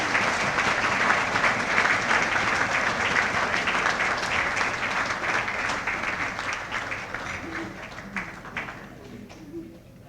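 Sustained audience applause at a New Year's Gala, a dense wash of many hands clapping from a crowd, steady and loud for most of the span before thinning and fading toward the end.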